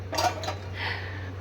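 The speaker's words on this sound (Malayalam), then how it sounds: "പാത്രം മറിഞ്ഞു" A metal cooking pot tips over in a home kitchen, giving two quick clattering metallic knocks and then a softer scrape against a low steady hum.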